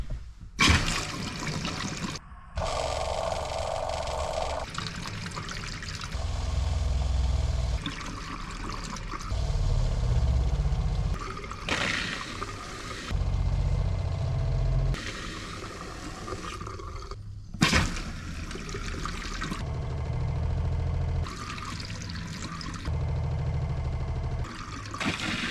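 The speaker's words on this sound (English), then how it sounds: "when I turn the faucets on, it should pump the antifreeze to the lines" Antifreeze pumped through a camper's faucet lines: water splutters and gushes from the tap in uneven bursts, with short pauses between surges as air and liquid push through the plumbing.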